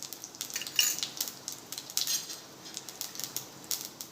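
Mustard seeds and cumin crackling in hot oil for masala poha, with irregular sharp pops and spits over a faint sizzle, close and moderately loud.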